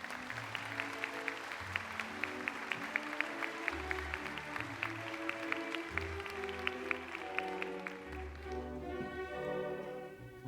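Audience applause greets a speaker at a church dedication ceremony, steady clapping sustained throughout over soft music with a low held tone, tapering slightly at the end.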